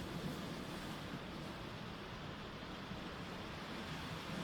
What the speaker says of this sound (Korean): 여러분들 파도 소리가 지금 들리고 있습니다